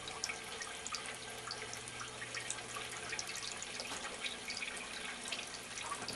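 Aquarium pumps push water up into a groundwater simulation Rainmaker unit, giving a steady quiet trickle and patter of dripping water with a faint constant hum underneath.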